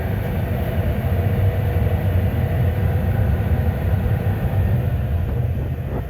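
A homemade waste oil heater burner roars steadily and loudly up close, a constant low rumbling drone with no pauses.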